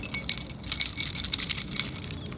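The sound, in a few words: keys jangling as they are removed from pocket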